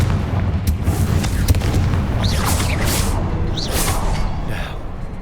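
Confringo, a fiery blast spell in Hogwarts Legacy, sets off a loud booming explosion with a crackling, rumbling tail that rolls on for several seconds. Whooshing magical effects play over it, and no one speaks.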